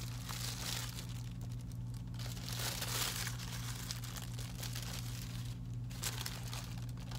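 Plastic packaging around a pair of Chanel Cruise 2020 sneakers crinkles softly and steadily, close by, with a constant low hum in the background and no talking.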